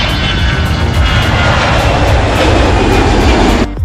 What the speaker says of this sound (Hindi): पहली बार जब तेजस का इंजन 84 किलो न्यूटन थ्रस्ट के साथ दौड़ता है